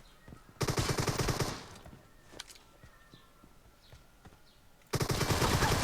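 Pistol gunfire in a video game rings out in two rapid rattling bursts of shots, close and loud, separated by a quieter stretch with faint footsteps and small noises.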